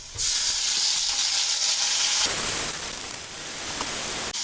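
Ginger, garlic and onion paste hitting hot oil with already fried onions, a loud, steady sizzle and hiss that changes character midway as the paste goes in, with no voices.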